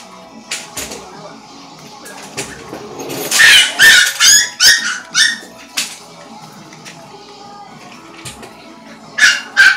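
Several dogs and puppies indoors bark and whimper in short bursts, loud and close, with yips clustered in the middle and again at the end over a quiet room.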